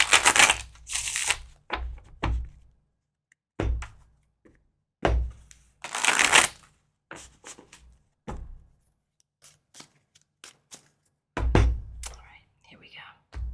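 Tarot cards being shuffled by hand, with several loud riffling bursts and scattered taps and thunks of cards being handled close up, separated by quiet gaps.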